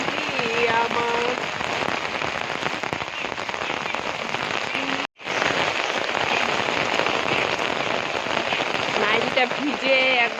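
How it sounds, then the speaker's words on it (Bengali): Heavy rain pours down in a dense, continuous hiss of drops hitting surfaces nearby, broken by a brief cut midway, while a voice speaks and sings faintly underneath. "খুবই বৃষ্টি হচ্ছে আমাদের দিকে।"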